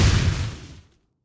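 Explosion jutsu in the Naruto Online Mobile video game: a single loud, broad blast that booms and hisses for under a second before cutting to silence, with no talk over it.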